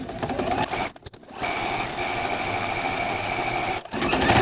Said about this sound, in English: I also do a couple little back stitches at the end of the row before cutting it loose